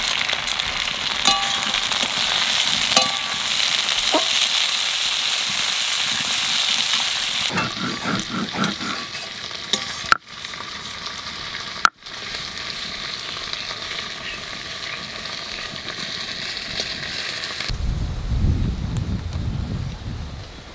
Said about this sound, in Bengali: আদা রসুনটা একটু ভাজে নিছি, এখানে দিয়ে দেবো টমেটো আর কাঁচা লঙ্কা।